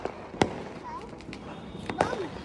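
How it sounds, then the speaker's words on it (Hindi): Sky shot fireworks going off during Diwali celebrations at home, with two sharp bursts spaced apart over a faint background, close by, followed by brief whistling trails. "अभी तो स्काई शॉट है"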